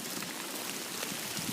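Steady rain falls during a hike outdoors, a dense, even patter and hiss that runs without a break, close and moderately loud, with no voices.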